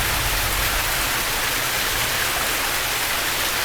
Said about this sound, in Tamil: இது வந்து சத்தியமாக வேறு லெவல் மழை.